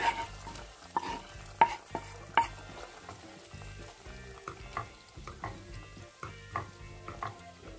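Sautéed onions are stirred into ponnanganni greens kootu in a pan, a spoon clacking and scraping in an irregular rhythm of close strokes over faint sizzling.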